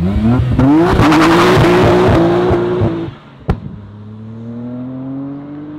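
A 520-horsepower Nissan R32 GTR accelerates hard from inside the cabin, engine note climbing through repeated gear changes, loud and close, then a sharp pop and a quieter steady cruise.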